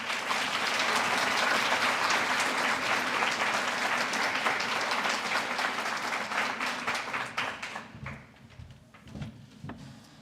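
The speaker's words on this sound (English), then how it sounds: "Another round of applause, please" Audience applause at a university honors convocation for David Perry, a stand-up and sketch comedian: dense, sustained clapping from a large crowd that thins out and tapers away near the end.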